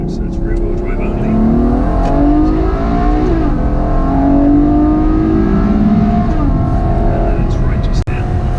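A Ferrari GTC4Lusso with a 660-horsepower turbo V8 and rear-wheel drive hums steadily from inside the cabin, the engine note rising and falling under ongoing conversation.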